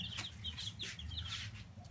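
Several chickens cluck close by, a run of short repeated calls over a low background hum, with no talking.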